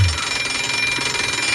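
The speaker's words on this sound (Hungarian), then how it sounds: "Pedig ez egy ilyen fura az ébresztő órájuk." Alarm-clock-style bell ringing on a radio morning show, a continuous rapid trill held steadily for under two seconds without any talk.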